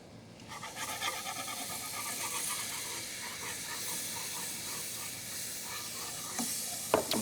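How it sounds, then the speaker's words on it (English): Flour stirred into melted butter in a pan for a roux: a steady soft sizzle with gentle scraping stir strokes, continuous and fairly quiet, with a couple of sharper clinks near the end and no speech. "We're going to add in our flour and give it a stir."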